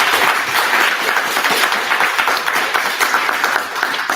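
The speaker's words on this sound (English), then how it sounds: "All right, let's give our two legislators a round of applause." A crowd applauds two state legislators at a Black Legislative Agenda Day gathering, with steady dense clapping sustained evenly throughout, fairly loud and close with no speech over it.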